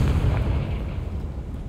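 Confringo, an explosive fire spell in the video game Hogwarts Legacy, bursts with a loud, dense boom that stays heavy and rumbling throughout, with no voice over it.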